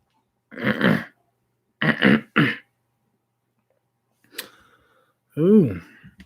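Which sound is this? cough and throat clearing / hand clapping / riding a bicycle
cough and throat clearing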